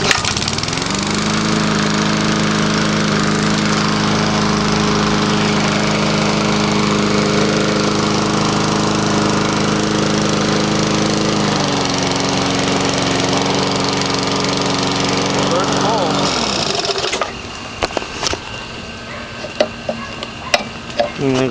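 A small engine cold-starts and settles into a loud, steady running drone with a brief shift in pitch partway through, then cuts off, leaving scattered clicks and ticks.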